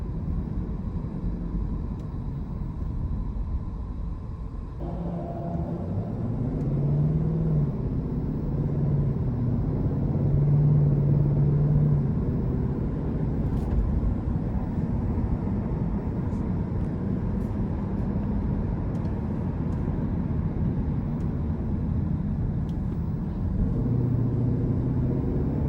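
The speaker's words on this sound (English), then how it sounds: "So the exhaust definitely sounds just a tad more aggressive in normal mode as opposed to comfort." A 2021 Lexus LC500 convertible V8 growls steadily while driving, a deep, continuous engine and exhaust rumble with road noise, holding a low drone that swells and settles across the drive.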